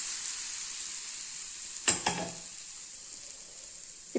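Hot oil poured over Tamil-style mango thokku gives a steady, bright sizzle throughout, with a sharper crackling burst near the middle as the oil hits the pickle. No voices.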